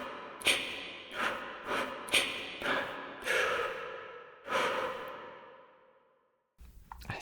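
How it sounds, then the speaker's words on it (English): A series of breathy exhales and sighs from a sampled virtual instrument, about seven in irregular rhythm, the last one long and fading out before a brief muffled noise. "Here are breathing noises."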